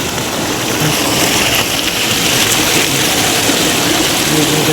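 Loud, continuous rushing water of Mallalli Falls in the Pushpagiri hills roars without a break, a broad steady noise with no other sounds standing out.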